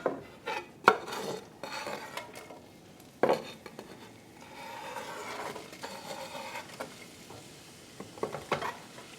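Onions sizzle in butter in a skillet while being stirred, with clattering utensil and pan knocks in irregular bursts, moderately close and without talk.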